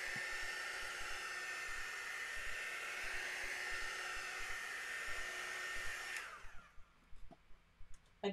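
A hair dryer blows with a steady, close hiss while drying a watercolor painting, then shuts off and winds down after about six seconds, leaving a few faint knocks.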